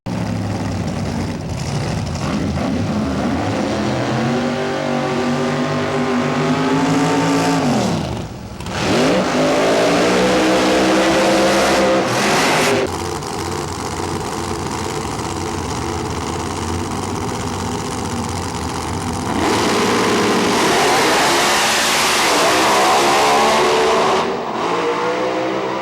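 Pro Mod drag racing cars at Maple Grove Raceway in 2013 rev and idle loudly and close by, with engine pitch rising and falling, one sharp dip in the middle, and a sustained roar continuing to the end.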